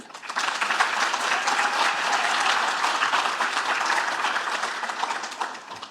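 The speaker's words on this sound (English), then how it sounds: "if you might give them a clap" Steady applause fills a graduation ceremony hall as the audience claps for supporters and staff, a thick, even wash of many hands sustained throughout before easing slightly at the end.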